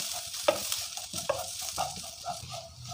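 Turmeric, Kashmiri chilli powder and salt are sautéed in oil. A spoon stirs and scrapes the pan several times over a soft, steady sizzle, close by and with no talk.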